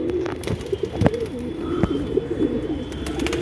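Pigeons coo repeatedly close by in a hot rooftop setting, soft throaty rolling calls running through the whole stretch over light background noise, with a few sharp clicks and knocks.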